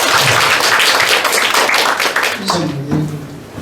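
An audience at the 21st Energy Day proclamation ceremony in Busan applauds loudly and steadily, a thick wash of many hands close by, with a voice starting to talk over it in the last second.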